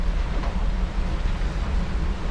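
Sea waves around a sailboat in a 20 to 30 knot wind, a steady rushing wash with low rumbling surges and wind buffeting the microphone, continuous and fairly loud, without speech.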